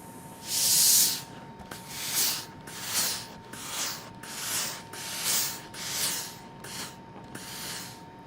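An iron presses flat the seams of a quilt block, making a rhythmic series of about eight breathy swishing strokes, each rising and fading in turn, with no speech.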